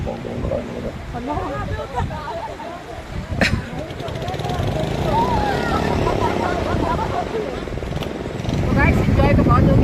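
A CTO motorbike by the seaside running with a steady engine drone that swells louder toward the end, alongside wind and someone talking over it throughout.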